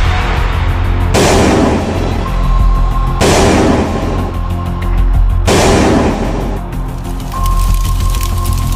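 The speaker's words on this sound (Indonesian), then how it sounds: "menghujani Purwokerto dengan tembakan-tembakan artileri" Heavy booming blasts of artillery shelling Purwokerto repeat about every two seconds, loud and close, each followed by a rumbling, crackling tail, like artillery shells landing.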